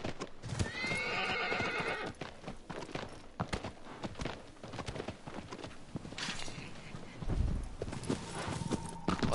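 In Shadow of the Colossus, a horse's hooves clip-clop steadily along, close and clear, with a whinny early on and another neigh later, and faint game sounds underneath.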